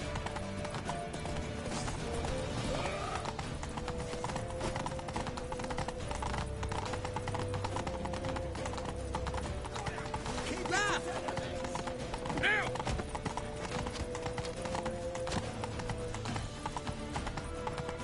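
Horse hooves galloping in The Witcher 3: The Wild Hunt, a fast, steady clip-clop rhythm running throughout with occasional whinnies, under game music and shouted voices.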